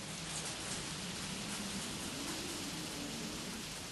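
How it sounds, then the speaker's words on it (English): Wind and rain outside a greenhouse make a steady, dense hiss with a low rushing undertone, continuous and even throughout, no voices. "You can hear the wind and the rain now and why I'm indoors."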